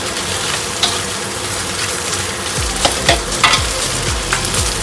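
Carrot and onion being stir-fried in a pan for turmeric fried chicken, a steady sizzle with repeated scraping and clattering stirs from a utensil, close and loud with no talking.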